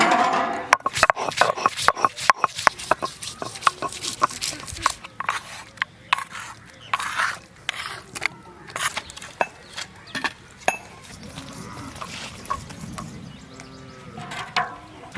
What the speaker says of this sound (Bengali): আসুন আদা বেটে নেব।